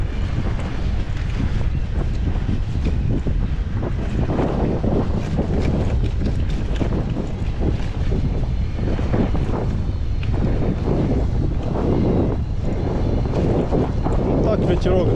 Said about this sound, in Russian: Ну, так ветерок дует,